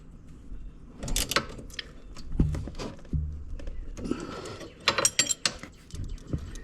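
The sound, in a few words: tightening a bolt with a ratchet on a Honda FourTrax ATV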